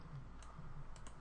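Quiet keystrokes on a computer keyboard, a short run of soft separate clicks at an uneven typing rhythm, close up and with no talk.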